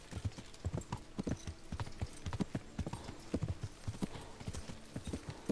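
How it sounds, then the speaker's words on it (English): A horse galloping through town in the medieval game Kingdom Come: Deliverance, rapid rhythmic hoofbeats thudding steadily at moderate volume with no pauses. "I'm galloping through town"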